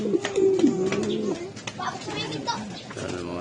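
Caged pigeon hens from top breeding stock coo in low, close, repeated throaty calls, with people talking nearby.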